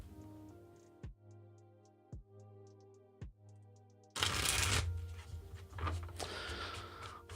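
A few sharp, isolated taps in near-quiet, then a sudden loud burst of tarot cards being riffled and shuffled, continuing with rustling until the end.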